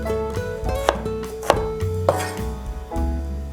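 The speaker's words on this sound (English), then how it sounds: "for the onion, cut them in slices like so" A kitchen knife slices through an onion on a cutting board, giving three distinct, crisp cuts spaced about half a second apart over a steady tonal background.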